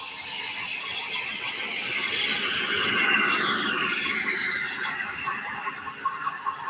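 Class 56 diesel locomotive passing close to the track with a screaming turbo, a steady broad roar with high whine that swells to a peak midway and eases off, no talk.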